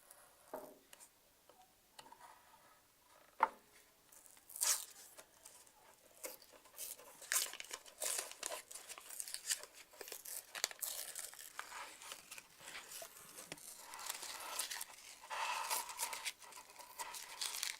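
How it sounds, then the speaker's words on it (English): Paper being peeled off a sanded wooden award plaque before carving, a run of crinkling, tearing rustles with sharp snaps, close up and building in density, no talking. "Then we can peel the paper off and start working on carving in the middle of it."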